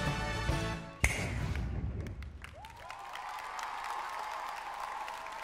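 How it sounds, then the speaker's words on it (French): Scattered clapping from an audience at a cosplay show follows the end of loud music, with a sharp thud and a lingering sustained tone beneath the applause. "On l'applaudit bien fort, notre cher Thanos."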